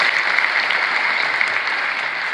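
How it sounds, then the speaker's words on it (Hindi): A school audience claps loudly and continuously, dense steady applause throughout with no speech over it. "बैंकिंग में जाना, जोरदार ताली बजाओ उसकी।"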